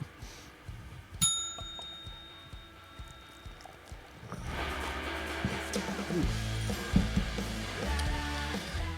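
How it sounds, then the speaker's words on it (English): A drink bell gives one sharp metallic ring that decays over a few seconds, followed by louder clattering and handling noise nearby. "you want to ring the old drink bell for you?"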